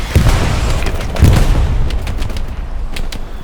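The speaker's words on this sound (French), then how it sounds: "C'est l'artillerie surtout" Artillery shells exploding in the World War II shooter Hell Let Loose, a few heavy booming impacts followed by sustained rumbling and scattered distant blasts, loud and continuous with no voices.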